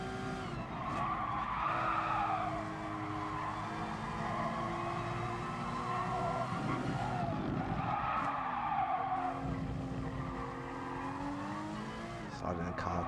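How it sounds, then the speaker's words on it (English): Race car tires squeal and skid almost continuously through cornering in a racing game, with engine revving underneath and steady, loud, close sound throughout. "Sliding the car quite a lot in this first part."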